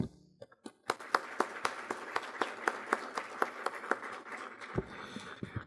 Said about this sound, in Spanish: De esta manera despedimos con un fuerte aplauso a nuestro amable presidium